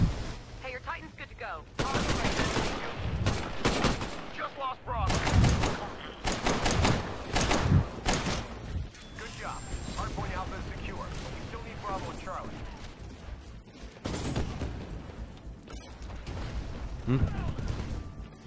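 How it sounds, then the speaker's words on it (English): Shotgun blasts and other gunfire from the video game Titanfall crack in dense, repeated bursts with thuds and mechanical clatter throughout, while a voice talks over the action. "Hearing a shotgun."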